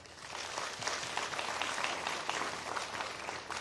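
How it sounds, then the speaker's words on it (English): Seminar audience at a New York Chinese organization's event gives dense, continuous applause, a soft, even wash of many hands clapping at once, heard fairly far off and quiet. "So a round of applause for her."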